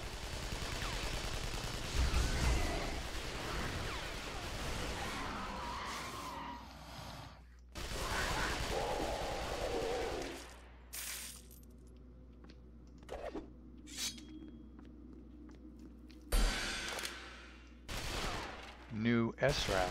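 Gunfire from imp snipers in the game London 2038, loud bursts and rattling volleys in the first half, then sparser sharp shots against a quieter background, with someone speaking at times.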